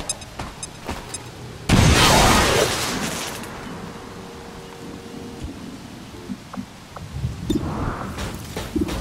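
A grenade goes off in the video game XCOM 2 as a sudden loud blast that fades into a rumbling, crackling tail, with scattered softer game sounds before and after.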